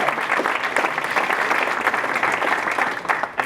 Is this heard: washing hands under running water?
no